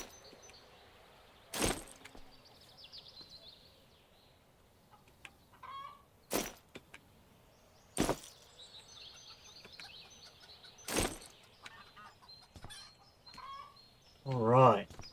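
Chickens cluck and call in a farm coop in a farming game, scattered soft clucks and a louder squawk near the end, broken by several sharp loud clacks.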